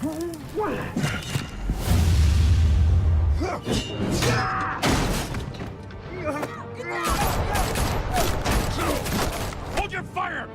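Bursts of gunfire, crashes and thuds crackle through a tense scene in Batman: A Telltale Series, mixed with game music and shouted dialogue throughout.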